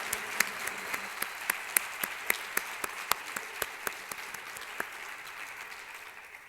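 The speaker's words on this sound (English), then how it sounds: "Let's give her another round of applause." An audience applauds after a presentation by Victoria at RIT, heard as a run of distinct, evenly spaced claps at moderate loudness over a soft background wash that thins toward the end.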